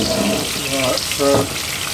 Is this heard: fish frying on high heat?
yes